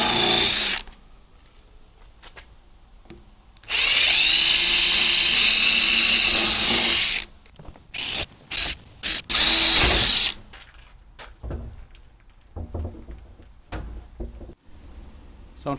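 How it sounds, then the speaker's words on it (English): A power drill whirs while drilling holes in the side of a rain barrel, in several bursts: one long run, then short stop-start pulses, loud and close, with quieter handling noise between. "Thinking it might actually be better to drill the holes in the side"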